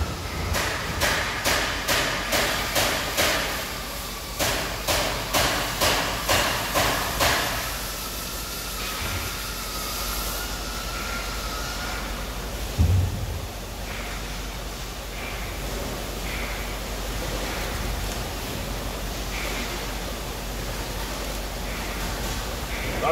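A cannabis bucking machine strips wet plant material, with a rapid train of clattering mechanical knocks early on that gives way to a steady whirring, rustling run and one brief thump.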